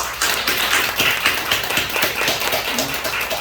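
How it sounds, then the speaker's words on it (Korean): Applause from a church congregation honoring a young pianist's debut, a dense, steady patter of many hands clapping together for a few seconds. "박수 한번 쳐줘요"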